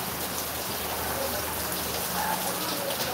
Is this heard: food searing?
no